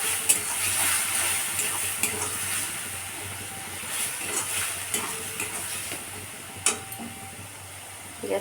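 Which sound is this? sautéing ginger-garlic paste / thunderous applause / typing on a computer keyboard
sautéing ginger-garlic paste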